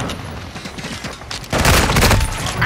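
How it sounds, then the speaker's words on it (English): A stun grenade goes off in a shooter video game, a sudden loud, dense burst of blast noise that erupts midway and holds for under a second before easing back to the steady game din. "Stun grenade!"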